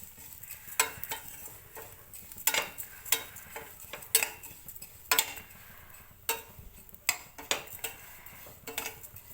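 Dry vermicelli is roasted in a pan for semiya payasa, with irregular scraping and clinking of a spoon against the pan and a soft sizzle underneath. The sound is steady and close, and no one speaks.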